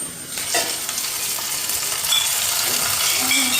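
Fried onions are tipped and stirred into cooked tapioca for paal kappa. A close, steady sizzle carries scraping utensil sounds and a few clinks throughout.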